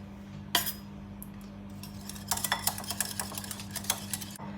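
Curd and water are stirred in a vessel to make buttermilk, one sharp clink followed by a quick run of scraping, tapping strokes, moderately close over a low steady hum.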